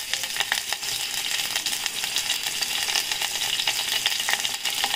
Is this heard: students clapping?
no